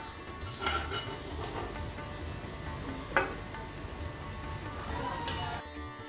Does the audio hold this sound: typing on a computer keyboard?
no